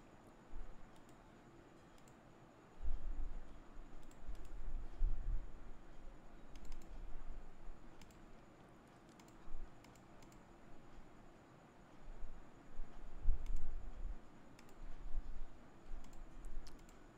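Soft, quiet clicking of computer keyboard keys comes in irregular bursts over a low background hum, with no talk.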